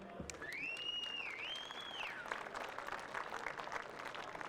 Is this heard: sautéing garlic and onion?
no